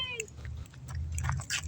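Small abandoned cat or kitten meowing outdoors on a family walk near a train line, with a brief high cry at the start over low rumbling background and people talking nearby.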